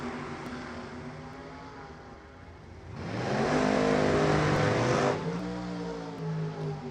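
Turbocharged drag racing cars launch at an NHRA divisional race, engines droning at a distance, then surging into a louder, harmonic-rich roar for a couple of seconds before dropping back to a steady hum.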